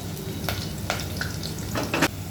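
Onion frying in oil for a spicy prawn curry, a steady sizzle with a few sharper crackles and scrapes of stirring, close and moderately loud with no talk.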